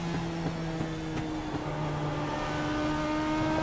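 A Legends race car's engine drones steadily on track, a loud, continuous buzzing tone that holds pitch with small wavers, with no voices.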